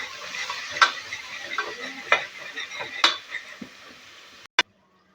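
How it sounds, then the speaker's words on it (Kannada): Thin-sliced onions frying in a pan for dal fry rice, with soft sizzling and several sharp scrapes and taps of a spatula against the pan, then a final clack before the sound cuts to silence. "ಈರುಳ್ಳಿ ಫ್ರೈ ಮಾಡೋಕ್ಕೆ ಹಾಕ್ತಿದ್ದೀನಿ"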